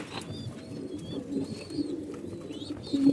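Domestic pigeons cooing softly in a home loft where breeding pairs nest, with repeated low coos alongside faint chirps over a steady background.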